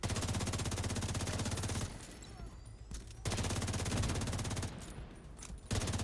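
Enemy automatic gunfire in The Division 2 rattles in sustained dense bursts, broken by two brief pauses, loud and close throughout.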